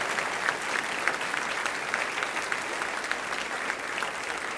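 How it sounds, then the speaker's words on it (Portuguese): A church congregation applauding a mother, with dense, steady clapping from a crowd that holds at an even level throughout. "E eu queria que você desse um aplauso bem forte para ela"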